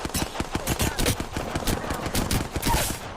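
Rapid automatic gunfire rattles through an Apex Legends battle royale firefight, dense bursts of shots packed close together with faint voices underneath.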